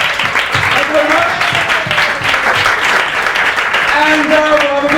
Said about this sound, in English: big round of applause to you guys for making it to the end of the evening